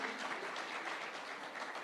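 Brief burst of audience applause at the WITT Summit 2026, faint and steady clapping with no voices over it.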